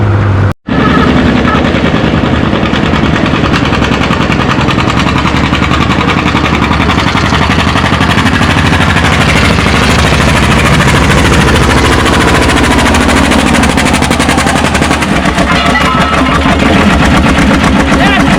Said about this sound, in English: First tractor in freeway pull-off for King of the Hill 4750, 8-mile-an-hour.